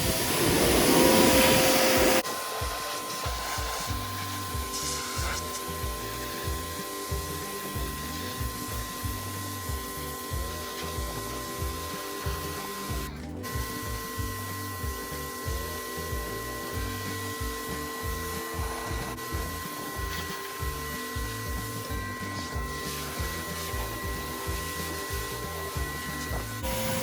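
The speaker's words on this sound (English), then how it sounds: "Pro tip when you're spraying off your trailer, keep your mouth closed." Water spraying off a livestock trailer, a steady rushing hiss under a droning pump engine, continuous and close, after a brief louder burst at the start.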